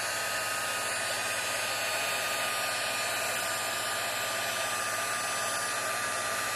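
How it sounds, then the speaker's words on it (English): Hair dryer blowing steadily on a craft background, a loud, constant broadband whoosh with even motor hum that fills the whole stretch without pause, close to the mic and with no talking. "now I'm just going to dry it for a few seconds"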